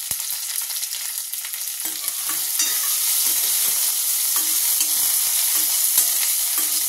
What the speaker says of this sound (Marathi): सर्व मिक्स करून घेऊया. छान परतवून घ्यायचं आहे तेलावर.